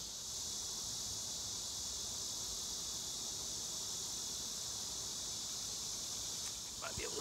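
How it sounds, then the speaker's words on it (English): Honey bees drone in a dense, continuous high hum while a large hive is opened for inspection, a steady close swarm sound with a few sharp clicks near the end. "Lots of bees. Lots of bees."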